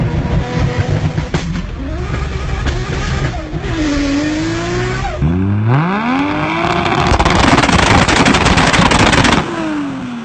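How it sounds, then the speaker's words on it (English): Nissan RB26 engine revving high and hard with a race-bred edge, with several rising and falling rev sweeps, sharp pops and a loud, close sustained scream toward the end. "You can really hear the high-strung race-derived sound in the RB26."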